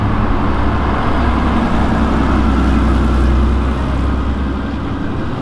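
A Porsche 911 engine drones at a steady, loud level at close range, with a low, even rumble throughout and no voices.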